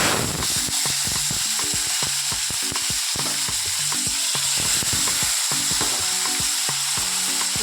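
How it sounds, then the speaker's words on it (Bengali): Mini brinjals dropped into hot oil in a wok, a dense continuous frying sizzle with quick clattering stirs and scrapes running throughout, close and loud, no voices. "তেল গরম হয়ে গেছে, এবার বেগুনগুলোকে ছেড়ে দিচ্ছি"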